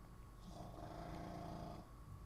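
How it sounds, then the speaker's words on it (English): A steady, raspy snore rumbles close by, one long drawn-out breath with a low, rattling texture. "that's my dog snoring"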